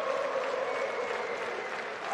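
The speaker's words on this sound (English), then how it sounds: "Hometown crowd in support of Kosednar." A hometown crowd at a fight cheers and applauds in a dense, steady roar of clapping and voices that fills the whole moment without pause.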